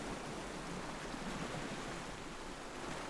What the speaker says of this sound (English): sit on the beach, listening to the sea.